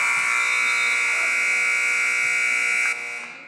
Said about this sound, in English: Hausler can't get the bucket to go at the buzzer